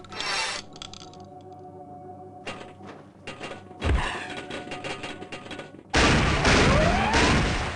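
Cluster bomb payload thrown at a hologram target in Gunman Chronicles, a string of sharp thumps and gunfire-like bursts ending in a loud, sustained blast.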